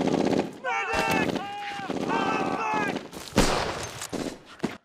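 Gunfire from the TV series Band of Brothers, scattered shots and bursts under loud excited talk, with a sharp louder report partway through.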